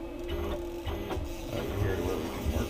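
A 6040 CNC mill jogs continuously along its Y axis, giving a steady, faint whirring hum with light mechanical ticking throughout.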